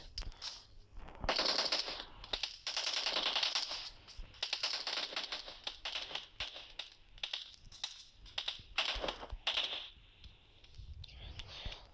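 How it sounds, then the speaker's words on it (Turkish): Rapid bursts of automatic gunfire from the mobile battle royale game PUBG New State, crackling in repeated volleys across the whole stretch, with voices talking over the shooting. "Bizim adam ona sıkıyor."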